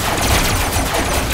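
Dense, continuous gunfire and laser blasts from battling robots in the vehicle-combat game Robocraft, loud and unbroken with no pauses.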